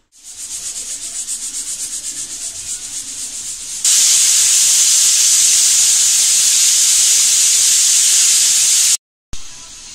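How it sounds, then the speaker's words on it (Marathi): Steam hisses loudly and continuously from a pressure cooker whistle while Punjabi-style chole cooks, a harsh sustained blast that surges stronger partway through and cuts off abruptly near the end. "झाकण लावून बरोबर 6 ते 7 शिट्ट्या देऊया"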